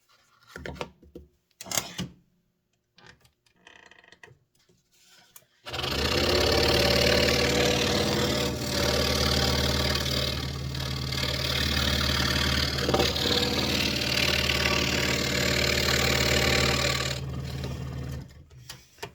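A steady, buzzing scroll saw cuts wood continuously for a long stretch, loud and close, after a few brief clicks and knocks.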